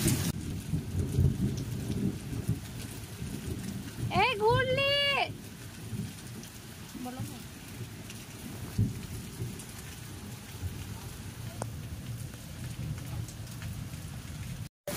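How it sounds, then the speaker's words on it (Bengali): Steady rain falls throughout, with low rumbling thunder beneath it during the first storm of the season, heard from indoors by a window. A brief chirping bird call cuts through near the middle. "হ্যাঁ অনেকদিন পর বৃষ্টি হচ্ছে"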